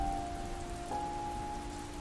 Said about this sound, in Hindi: सुबह से ही हल्की हल्की बारिश लगातार हो रही है